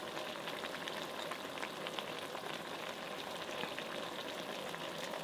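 Shrimp hit a pan of frying pinakbet vegetables with okra, giving a steady, even sizzle that stays at moderate loudness throughout with no voices.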